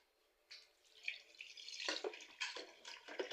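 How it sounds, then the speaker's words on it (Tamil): Water is poured from a vessel into a pressure cooker holding mutton, a close, soft splashing and trickling stream that starts abruptly and continues unevenly. "இப்போ தண்ணி ஊற்றிக்கலாம்."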